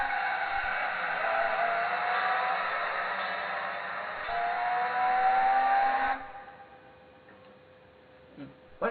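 Supercharged Toyota MR2 1600G engine in Gran Turismo 2, a steady buzzing drone holding high revs for about six seconds, then cutting to a quieter idle with a brief blip near the end.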